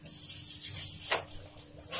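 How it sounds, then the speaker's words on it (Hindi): Aloo paratha sizzling in refined oil on a pan over a medium flame, a close, loud, continuous frying hiss with brief bursts of sharper spitting. "मीडियम फ्लेम पे ही मैं इसे फ्राई करूंगी"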